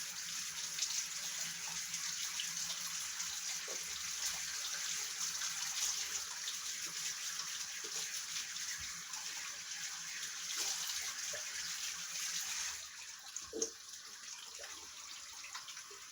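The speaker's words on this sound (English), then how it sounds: "Rinse off this oil slick off my hands." Tap water runs steadily into a sink while oil is rinsed off hands, a continuous close hiss with small splashes and clunks near the end as the flow changes.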